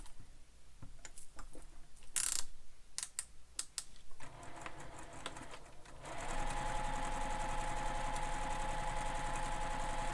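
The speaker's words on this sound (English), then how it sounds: "You're top stitching the folded edge." A sewing machine topstitches the folded edge of backpack fabric. A few sharp clicks and handling knocks come first, then the motor runs in a steady, close, continuous whir until the end.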